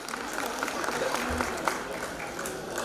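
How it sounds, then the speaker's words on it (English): An audience claps at a preschool annual function, a dense sustained patter of many hands that stays fairly loud and even throughout, with crowd murmur mixed in. "Give them a big round of applause."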